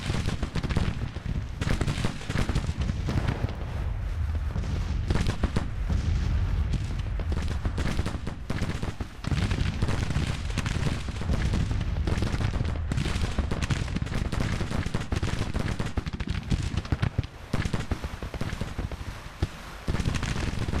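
A Grand Tactician video game battle roars with dense, continuous musket gunfire and artillery, a crackling barrage that never lets up across the whole stretch, with no talking.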